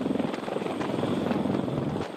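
A Sikorsky CH-53K military heavy-lift helicopter flies with a steady, loud rotor thump and engine roar, with no talking.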